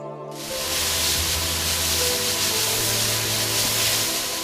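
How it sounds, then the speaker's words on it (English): A loud, steady hiss of pesticide mist spraying over grape vineyards in Nashik starts suddenly and continues, over the low droning hum of a motor running the sprayer. "It is pesticides being sprayed on grape vineyards in Nasik."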